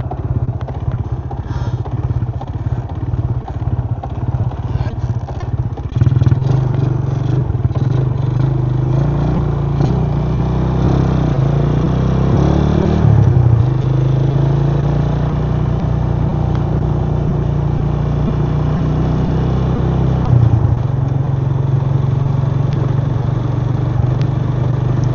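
A Yamaha LC135 V1 motorcycle engine with an engine block knock idles and revs with a rough, knocking clatter, loud and close, rising and falling over a long stretch with no talking.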